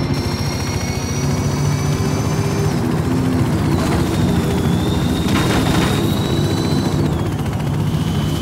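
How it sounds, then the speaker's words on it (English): Helicopter in the video game Forza Horizon 5, a steady loud rotor and engine drone filling the whole stretch alone, with whining turbine tones that shift in pitch partway through. "Follow the chopper."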